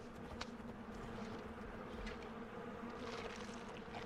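A hive of bees hums continuously in Far Cry Primal, the prehistoric open-world game, a constant close buzzing mixed with faint scattered game ambience throughout.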